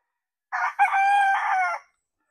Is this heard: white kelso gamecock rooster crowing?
yes